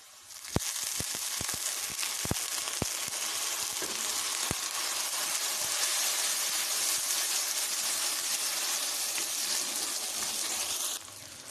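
Water is poured into a pan of frying onions and red chili, setting off a loud, steady sizzle with a few sharp clicks near the start, before the hiss cuts off at the end.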